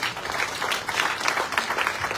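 Applause for the Minister of Defense at an officers' mess commissioning ceremony, a steady wash of many hands clapping that holds at even volume for a couple of seconds without voices.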